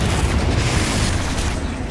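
A Confringo spell explosion erupts in the Hogwarts Legacy video game as a dense, roaring boom that fills the whole two seconds with steady rumbling force and no pause.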